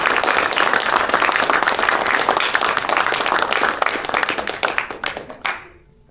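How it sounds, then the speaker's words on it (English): A big round of applause from an audience at a change of command ceremony, loud sustained clapping that thins out into a few scattered claps and fades to near silence at the end. "please do give them a big round of applause"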